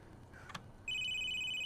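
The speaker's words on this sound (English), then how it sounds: "Answer your phone" A telephone rings in The Sims 3, a bright electronic trill that starts abruptly partway through and holds steady and clear over faint room noise, with no talking.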